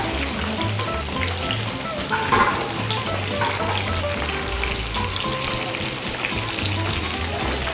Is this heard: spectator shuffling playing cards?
no